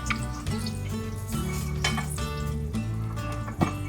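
Green chillies fry in hot oil with a steady sizzle, along with clinks and scrapes of stirring in the pan, all close and without speech.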